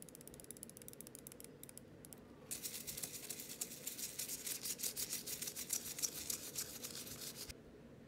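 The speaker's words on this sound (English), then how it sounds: "we're going to rapid fire on that button to really work it in there" Rapid clicking of a Logitech G300s mouse button freshly treated with contact cleaner, a dense run of fast, close, crisp clicks starting partway in and stopping abruptly before the end.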